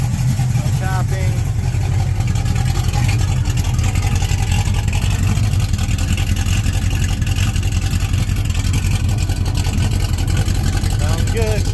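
A Vortec small-block Chevy V8 idles steadily and loudly after a roller rocker install, a continuous even rumble without misfires or tapping filling the whole stretch.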